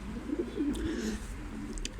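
Low, soft pigeon cooing murmurs steadily at close range, with a couple of faint higher chirps mixed in.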